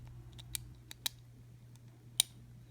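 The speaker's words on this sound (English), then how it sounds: "once you got them lined up properly, they'll just snap into place" Small plastic parts of a Kato model train shell snap into place, giving a few sharp, light clicks spaced irregularly, close by against a quiet low hum.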